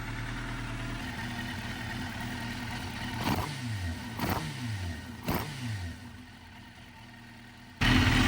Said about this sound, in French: on a un ralenti beaucoup plus rond et beaucoup plus stable